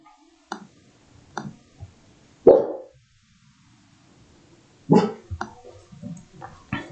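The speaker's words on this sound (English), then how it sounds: "So if you hear barking or playing, there are actually 3 dogs in the room" A dog barks a few times in short separate bursts, fairly close, with quiet gaps and some softer shuffling noises between barks.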